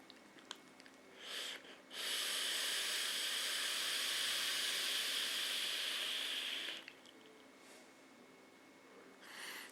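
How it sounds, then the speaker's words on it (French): A long, loud hiss of vapor exhaled from an e-cigarette, steady for about five seconds after a short inhale-like puff, then fading back to quiet. "Alors, production de vapeur énorme."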